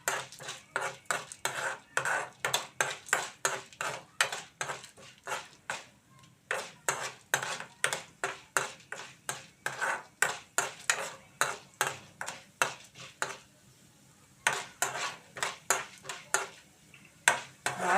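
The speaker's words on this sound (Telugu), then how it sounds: "ధనియాలు అలాగే పచ్చనపప్పు, మినపప్పు కూడా వేసేస్తానండి. మాడకుండా వేయించుకోవాలండి" Coriander seeds with chana dal and urad dal are dry-roasted in a metal pan, a spoon scraping and clinking against it in quick repeated strokes, close and clear, with brief pauses between bursts of stirring.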